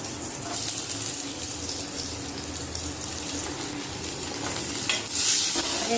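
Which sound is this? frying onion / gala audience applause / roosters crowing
frying onion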